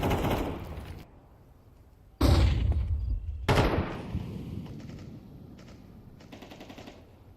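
Gunfire in Counter-Strike 2 during a competitive esports final on the Dust map: two loud bursts of automatic fire about a second apart, each trailing into quieter reverberant in-game ambience, with no talk.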